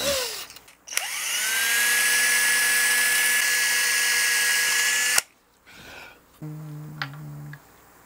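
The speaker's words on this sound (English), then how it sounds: "we've only got two holes and it's a small drill bit" A small power drill drilling holes in a guitar body whines at a steady high pitch for several seconds, then stops abruptly, followed by a short lower-pitched spin-up and light clicks.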